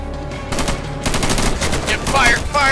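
Rapid bursts of automatic gunfire in a WW3 zombies mod of a video game, loud and close, crackling in quick repeated volleys over a couple of seconds.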